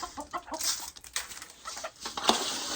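Gamefowl, including a big rooster and other chickens in a pen, cluck and squawk in quick overlapping bursts at close range, with some scuffling and pattering among the calls.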